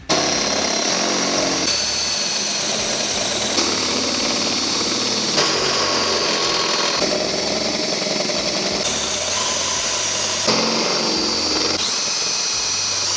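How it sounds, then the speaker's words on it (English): A power drill grinds steadily through two layers of a metal hitch tube on a 2015 Chevrolet Corvette, loud and continuous with a harsh whine, briefly easing and restarting every couple of seconds. "you are drilling through 2 metal surfaces here"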